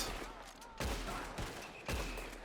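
Rifle shots crack in Red Dead Redemption 2, with three sharp reports spaced irregularly across a couple of seconds, each followed by a rolling echo over a busy ambient game backdrop.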